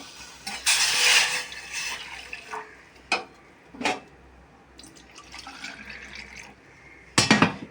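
Water poured from a glass into a pot on a lit stove, several bursts of splashing and trickling with short clinks between them, close and fairly loud, with no talk.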